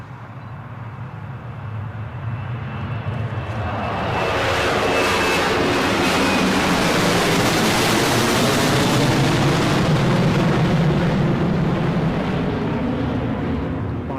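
A Jet2 Boeing 737-300 airliner takes off at Newcastle airport on a Sunday afternoon. Its roar swells over the first few seconds, then holds as a loud, steady rumble with a hissing edge before easing slightly at the end.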